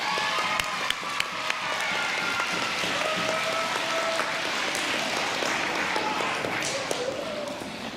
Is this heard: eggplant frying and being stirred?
no